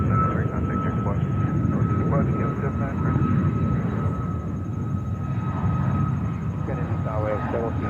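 Jet airliner roaring on its takeoff roll from runway 13 right at JFK in New York, a steady broad engine rumble with faint tower radio chatter and talk layered over it.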